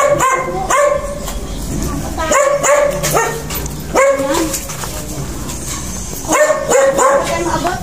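A dog barks near a bridge in a rough outdoor setting, several sharp barks and yips in uneven bursts, loud and close, with people talking now and then.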